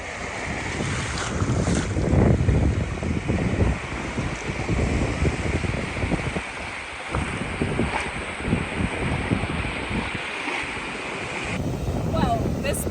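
Wind buffets the microphone while surf rolls and washes along Nungwi Beach in Zanzibar, a continuous, roaring rush of waves and gusts that stays loud and fairly even throughout.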